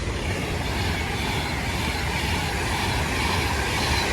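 A Class 390 train, unit 390135, pulls out of Watford Junction bound for Manchester Piccadilly, a loud continuous rumble of wheels on rail with faint clatter and a thin squeal riding over it, close by and unbroken.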